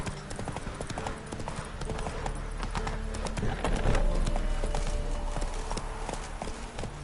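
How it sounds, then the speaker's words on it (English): Horse hooves trot in a steady clip-clop rhythm through The Witcher 3 game world, loud and continuous, with a voice speaking briefly over the hoofbeats. "Whoa there, Roach."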